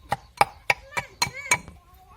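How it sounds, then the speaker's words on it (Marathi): Spice masala for a brinjal and potato curry is pounded finely, giving six or seven sharp, evenly spaced thuds close by, with no talking. "हा मसाला आपल्याला आहे ना एकदम बारीक असा कुटून घ्यायचा आहे"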